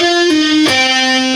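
Overdriven electric guitar plays a short phrase with hammer-ons and pull-offs, notes shifting pitch with a quick pick attack midway, then sustaining loudly without any talking.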